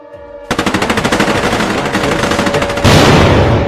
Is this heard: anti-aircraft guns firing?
yes